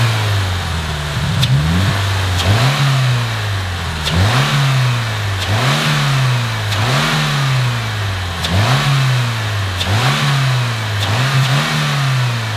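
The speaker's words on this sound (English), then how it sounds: "So I do hear a little bit more induction noise out of it, and I also hear like some extra little pops out of the exhaust" A Subaru WRX engine revs repeatedly in a steady rhythm of about eight close, loud blips, with audible induction noise and small exhaust pops as each rev falls back.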